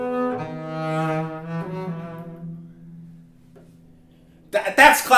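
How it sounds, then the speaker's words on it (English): Bowed or plucked double bass playing a short Mozart-style classical phrase, clear sustained low notes with rich harmonics, played alone and close, fading before a brief burst of noise at the end. "you have music that's Mozart, sounds something like this"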